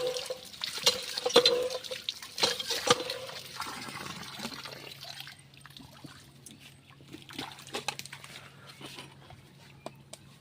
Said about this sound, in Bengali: তেলের বোতল ধুয়ে নিচ্ছি।